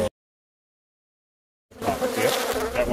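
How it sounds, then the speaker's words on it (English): Killer bees swarm at a hive during a film shoot, making a dense, close buzzing drone. It starts abruptly after a moment of silence and holds steady at moderate loudness. "There comes a bee."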